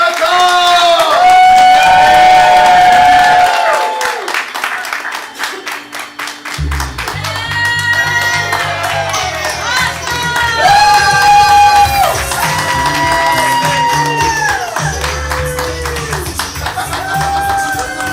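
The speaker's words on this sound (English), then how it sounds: "So get your hands clapping, your feet stomping for children of the dawn!" A crowd at a teen improv class student showcase claps, whoops and cheers loudly and continuously, with music playing underneath and shouted voices throughout.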